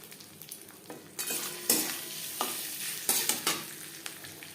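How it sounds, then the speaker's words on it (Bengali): Vegetable fried rice with lightly fried cashews and raisins being stirred in a pan, several scraping sweeps of the spatula over a steady sizzle, close and moderately loud, with no talking. "অল্প অল্প করে মিক্সড করতে থাকবো আর নাড়তে থাকবো"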